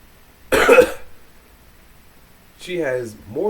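A single harsh cough burst from someone getting over a cold, close and fairly loud, followed after a pause by a person starting to talk.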